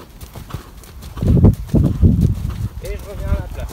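Horse hooves clip-clop at a steady gait during a riding training session, rhythmic thuds close by, with a short neigh near the end and a rider talking.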